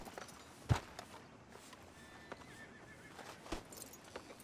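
A horse in Red Dead Redemption gives a short whinny amid a few soft hoof clops and thuds, fairly faint against a quiet background.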